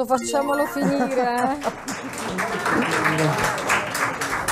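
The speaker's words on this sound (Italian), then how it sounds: "Scusate, stava partendo l'applauso" Studio audience applause swells under a talk-show host speaking Italian, steady clapping rising behind the voice and continuing as the talk breaks off.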